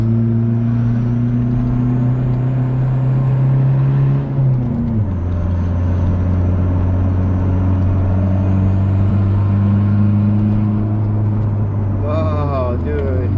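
A Mitsubishi Eclipse 2G running on a Speeduino engine controller drives along with a loud, steady engine drone that drops pitch at a gear change, then rises with revs near the end.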